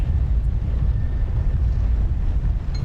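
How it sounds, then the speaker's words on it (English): Power turbines restarting in Genshin Impact, a steady, loud low rumbling roar that holds evenly throughout with no break and no voices. "The power turbines are restarting."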